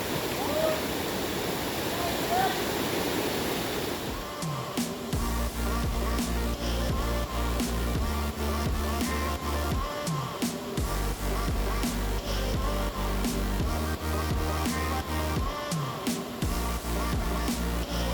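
A waterfall and clear river near San Carlos, Antioquia, rush steadily as constant close water noise, with a person talking over it for most of the time.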